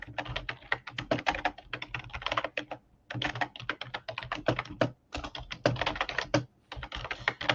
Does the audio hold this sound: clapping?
no